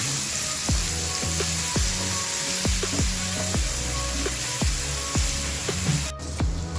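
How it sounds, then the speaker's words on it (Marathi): Green chili and coriander paste fries in hot oil, a steady loud sizzle broken by repeated sharp crackles and pops. "कोथिंबीर त्याचं पेस्ट मिक्सीमधून वाटून घेतलं होतं ते यामध्ये टाकू आणि तेलामध्ये छान भाजून घेऊ"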